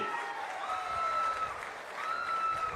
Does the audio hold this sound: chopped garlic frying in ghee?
no